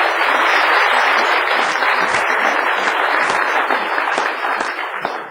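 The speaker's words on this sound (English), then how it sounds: "let's give him another round of applause" Audience applause fills a city council meeting, a steady dense wash of many hands clapping close and loud, fading slightly toward the end.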